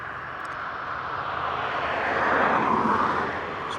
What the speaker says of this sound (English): Comes on, it's A350-900.